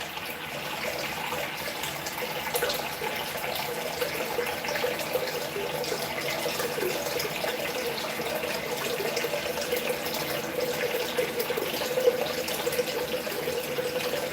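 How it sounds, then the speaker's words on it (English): A tap runs steadily into a sink for face washing with cold water, a constant close rushing splash with no talking. "Let me wash my face real quick."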